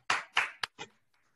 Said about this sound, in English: let's have a big round of applause for our 5 finalists